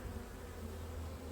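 Agitated honeybees buzz continuously close by during a spring hive inspection, a steady, faint droning hum with no voices.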